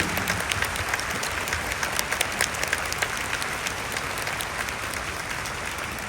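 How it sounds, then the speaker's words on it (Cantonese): Dense, sustained applause from a concert audience at the Kingdom concert, many hands clapping steadily for the full stretch with sharp individual claps on top of a broad wash of crowd noise. "我哋一齊俾啲掌聲去表達呢個情況"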